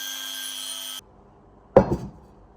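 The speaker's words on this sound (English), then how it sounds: "Now we remove all the burrs." A steady tone cuts off to near silence, then a tool gives one short, loud rasping scrape while removing burrs from freshly cut metal edges.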